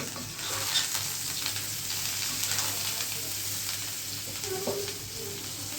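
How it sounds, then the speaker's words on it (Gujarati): Tempering with tomato and spice masala sizzling in a pan for a Gujarati side dish, a soft, continuous frying crackle with light stirring scrapes and a brief clink near the end. "કેવો વઘાર આવ્યો"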